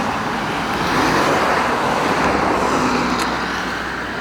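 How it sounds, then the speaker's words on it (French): Steady roadway traffic with cars passing by on an open road, a loud continuous rumble and whoosh that swells and fades slightly as vehicles go past, with no voices. "On va attendre que les voitures passent."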